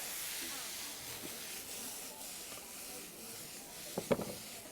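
Shallot sizzling in a hot pan alongside other pieces, a soft continuous hiss at low volume with a brief clatter near the end.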